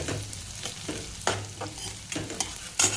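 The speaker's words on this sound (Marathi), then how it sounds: "आता लसूण चांगला भाजू द्या" Garlic frying in a pan while being stirred, a soft sizzle broken by scraping spoon strokes at irregular intervals, close and fairly quiet.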